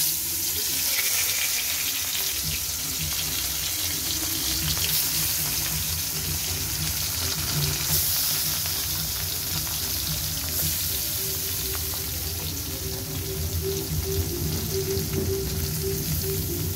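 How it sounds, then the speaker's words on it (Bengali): Koi fish fry in hot oil in a pan, a steady dense sizzle and crackle that runs on evenly with no speech. "মাছগুলো ভালো করে ভেজে নিলাম"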